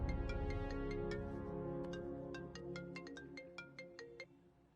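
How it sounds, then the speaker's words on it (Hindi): Telephone ringtone chiming in a repeating melodic pattern of bright electronic tones, loud and close, ringing alone for a few seconds before fading slightly. "तुम्हारे लिए कॉल है।"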